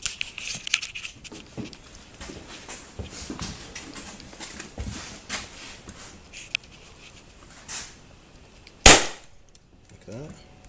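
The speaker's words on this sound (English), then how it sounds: "use as much pressure as you can to push down on the staple gun to get the seat seated in there" A staple gun drives a single loud staple into a Ducati Diavel motorcycle seat cover during reshaping, one sharp snap near the end over scattered rustling and handling noises.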